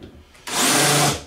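A drill bites into wood while countersinking screw holes for a drawer cabinet, a single loud whirring burst under a second long after a quiet start.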